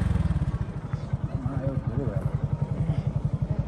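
A motorcycle rides along a road in Nepal between Bhairahawa and Biratnagar, its engine pulsing in a rapid, steady close-up rhythm while someone talks over it.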